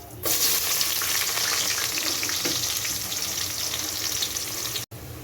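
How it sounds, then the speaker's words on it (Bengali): A cup of onions drops into oil with fried cardamom, cinnamon, cloves and bay leaves for beef rezala, bursting into a loud sizzle that holds steady with faint stirring before a brief drop near the end. "দারুচিনি লবঙ্গ ও তেজপাতা মশলাগুলোকে ভেজে নিয়েছি এবারে দিয়ে দিচ্ছি এক কাপ পেঁয়াজ"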